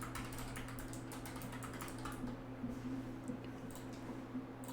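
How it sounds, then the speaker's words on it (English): Close, quiet computer keyboard typing in an ASMR session, a rapid run of soft clicking taps that thin out toward the end, with no talking. "I guess for those of you that like keyboard tapping, this is probably the best part of the video."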